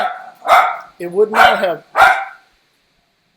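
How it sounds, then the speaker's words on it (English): Dogs fighting give off a few sharp, loud barks spaced about half a second apart, with a voice talking in between. "two dogs are fighting and one of them is getting on to the other two."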